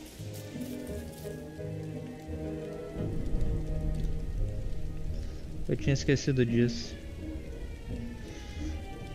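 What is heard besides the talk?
rain falling in a video game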